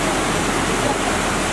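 Floodwater from heavy overnight rain rushes through the Kahu Khola river near Pokhara, a dense, steady roar of turbulent water that fills the scene evenly with no voices.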